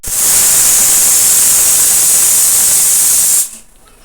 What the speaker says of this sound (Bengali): মশলাটা তো কষিয়ে নিয়ে আর প্রেসারে দিয়ে দিয়েছিলাম। দেখো সিটি হচ্ছে